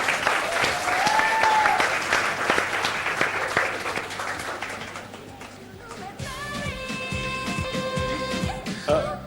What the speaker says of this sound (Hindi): हुमायूं के लिए तालियां।